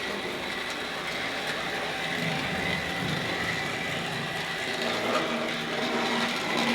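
A Hornby Triang model train runs over modern track on reprofiled wheels, giving a steady, even motor whir and rolling rumble throughout, close and moderately loud with no speech.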